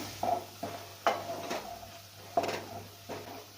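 A spatula scrapes and knocks against a pan while garam masala and turmeric fry in oil, giving a handful of quiet, irregular metallic scrapes with faint sizzling between.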